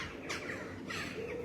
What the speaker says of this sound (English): Sorry, you can hear and see all they're jackdaws.